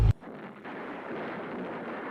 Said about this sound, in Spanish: El primer disparo de su cañón de 17 libras impactó en el Panther líder